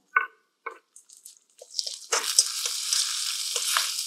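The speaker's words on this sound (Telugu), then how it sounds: "బీన్స్ అండ్ క్యాప్సికమ్ వేసుకోవాలి. లైట్గా ఫ్రై చేసుకోవాలి." Beans and capsicum frying in a pan for masala Maggi: a few soft drips and taps, then a steady sizzle rising and holding in the second half.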